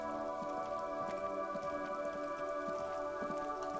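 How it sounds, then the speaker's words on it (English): Disco Elysium rain patters steadily beneath sustained, droning musical tones, with occasional louder drips standing out. "It's raining."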